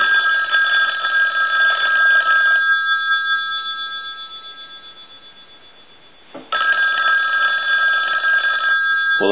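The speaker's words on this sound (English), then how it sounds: "so we'll go ahead and ring the phone again." A Northern Telecom rotary desk telephone bell rings loud and close during a repair test, two long ringing bursts with a fading gap between them.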